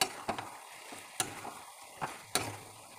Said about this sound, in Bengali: ভালো করে নাড়াচাড়া করে আমি চিকেনটাকে কষিয়ে নিচ্ছি।